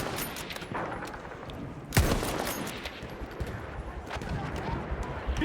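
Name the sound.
gunshots in video game Battlefield 1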